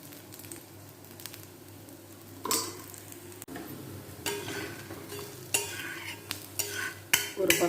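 Adai dosa batter fries in oil on a pan with a soft, steady sizzle, broken by several sharp scrapes and taps of a spatula on the pan, fairly quiet and with no voices.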